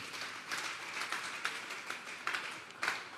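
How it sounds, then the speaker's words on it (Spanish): A church congregation at a Sunday service applauds with diffuse clapping that swells in a few stronger bursts, sounding faint and distant throughout. "Denle un fuerte aplauso al Señor y se pone en pie."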